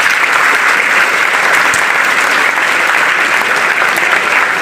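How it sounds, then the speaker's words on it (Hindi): School audience giving loud, sustained applause, a thick, even wash of many hands clapping close by for the whole stretch with no break. "आप अपने इस शानदार स्कूल के लिए एक बार जोरदार ताली दें।"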